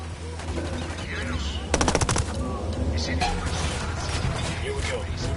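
Rapid automatic gunfire from Ghost Recon Wildlands, a militia unit shooting at cartel fighters in open-world combat, a dense rattling burst near the middle over a constant din of ambient battle noise and game voices.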